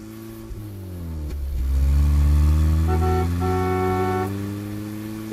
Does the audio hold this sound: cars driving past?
yes